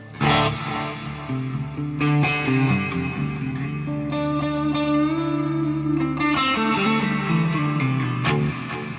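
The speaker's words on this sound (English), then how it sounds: "It's one of the new Glitz reverbs." Distorted electric guitar chords ring out with a lush, spacious Glitz reverb from a Line 6 HX Effects unit, each strum blooming and trailing off into a long shimmering tail.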